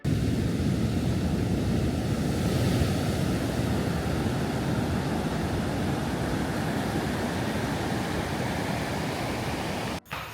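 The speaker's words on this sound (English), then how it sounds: "I'm just gonna show you the beach because it is so freaking beautiful" Ocean surf rolling onto a beautiful beach at a wellness getaway, a continuous broad wash of wave noise, loud and close, with no voices.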